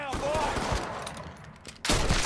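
Rifle gunfire in the Mafia 3 video game, heard as a loud burst of shots that ends the stretch after quieter combat noise, with a voice talking over the earlier part.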